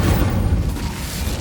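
An Incendio fire spell cast in Hogwarts Legacy gives off a loud, rumbling fiery boom, heavy and dense at first, then thinning out into a low roar.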